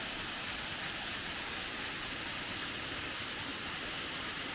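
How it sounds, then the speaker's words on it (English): Contentment Falls, a waterfall in Toccoa, Georgia, running strong after recent rain, pours as a steady, dense broadband rush that stays constant and fills the scene with no voices. "Beautiful waterfall."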